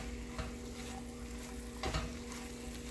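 Bacon and mushrooms cooking down in a pan give a faint, low sizzle with a couple of soft stirring scrapes, under a steady background hum.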